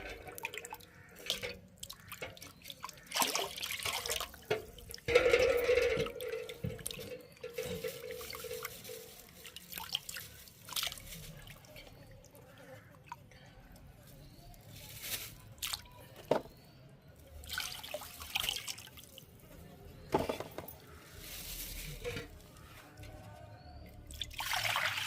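Tuna being washed by hand in water while cooking, intermittent splashing, dripping and squishing sounds at close range, with scattered quiet pauses between handling bursts.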